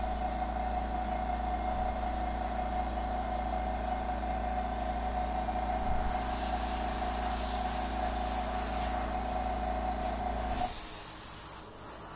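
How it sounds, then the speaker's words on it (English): A steady, loud hiss of spray paint on an Indoraptor model runs continuously under a constant motor hum, then cuts off abruptly near the end, leaving a quieter drone. "Testing, spraying, testing, spraying, testing."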